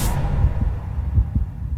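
Heartbeat effect with a few low, soft thumps spaced roughly evenly over a steady throbbing hum, with no voices.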